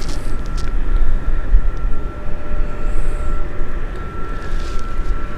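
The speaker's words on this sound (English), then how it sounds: "Transat taxiing." A Transat airliner taxis at Gatwick Airport, its engines giving a steady, broad low rumble with a faint high whine running through, continuous and moderately loud at some distance.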